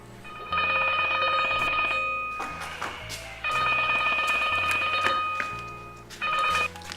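A telephone rings in long, loud bursts, three separate rings with short silent gaps between them, and no other sound around them.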